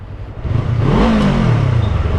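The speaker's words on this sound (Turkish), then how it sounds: "Arkadaşlar sizin için ara gaz verdim." A Yamaha R25 motorcycle engine revs up sharply, its pitch rising and then falling back, loud and close.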